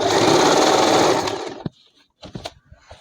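A sewing machine stitches petticoat fabric being turned into palazzo trousers, running in a rapid, even whir for about a second and a half before stopping, followed by scattered handling clicks and rustles.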